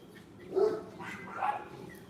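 A large neighbouring dog barks twice from some distance, two muffled woofs about a second apart over quiet background.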